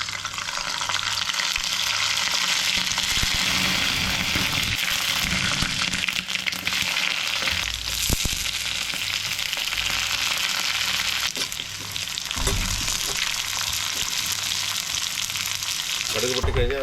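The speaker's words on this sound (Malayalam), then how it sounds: "കടുക് വറക്കാൻ നമുക്ക് വെളിച്ചെണ്ണ ഒഴിച്ചു. അതിലേക്ക് കടുകും മറ്റ് ചേരുവകൾ ഇടുകയാണ്" Mustard seeds and other seasoning spluttering in hot coconut oil for a stir-fried yam stem and green gram dish, a steady loud sizzle with dense crackles and pops throughout, close by and unbroken.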